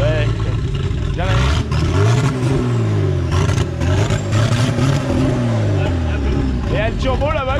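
A Citroën Traction fitted with a V12 bi-turbo engine runs steadily and loudly close by, its low rumble and harmonics shifting as it revs, with people talking over it throughout.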